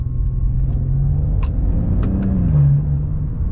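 Maserati Ghibli 3.0 V6 engine in manual mode, second gear, a steady loud low drone that rises slightly in pitch near the end, with a few faint sharp pops over it and no talk.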